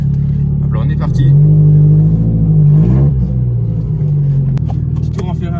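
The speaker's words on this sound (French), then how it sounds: "Petit tour en Ferrari. On va rester en première." A Ferrari with a free-flowing exhaust drives off in first gear, its engine a loud, steady low drone that swells around the middle and then eases, with a voice talking faintly over it.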